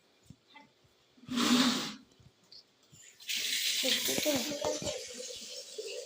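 Water runs from a tap in a short gush and then a longer steady stream as something is rinsed and washed by hand, close by, with splashing and handling noises.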